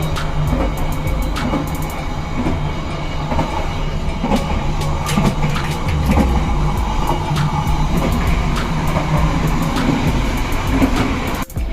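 Interior of a Ranggajati economy train riding from Purwokerto to Cirebon, a modified New Gen coach, with a steady loud rumble and rhythmic clickety-clack of wheels over rail joints, sharp clicks scattered throughout, no voices.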